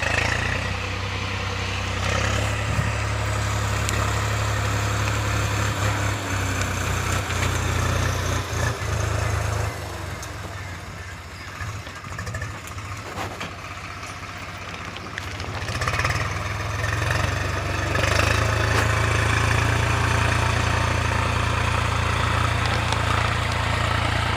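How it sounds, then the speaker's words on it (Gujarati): A tractor reverses across a flooded, waterlogged field, its engine droning steadily and loudly throughout, with a slight dip in the middle before it picks up again. "આ રીતે રિવેશ કરાવવાનું ટ્રેક્ટરને, એટલે પાણી કમ્પ્લીટ ફરી શકે"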